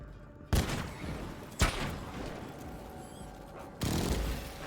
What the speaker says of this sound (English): So I'm gonna shoot.